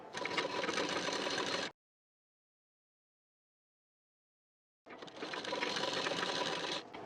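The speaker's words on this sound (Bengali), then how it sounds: "আরেকটা ফোল্ড করে এর উপর থেকে সেলাই দিয়ে নেবেন" A sewing machine stitches a folded belt strip onto a saree petticoat in two loud, steady runs, separated by a pause of about three seconds of silence. No one speaks.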